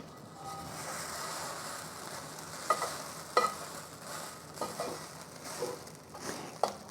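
Long-life noodles pan-frying in oil until crisp produce a quiet, steady sizzle, with a few sharper clicks and scrapes from the pan near the end.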